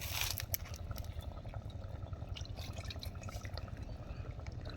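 Water is poured over a peeled, roasted raw mango to rinse it, making a steady, faint trickle and splash that runs continuously without pause.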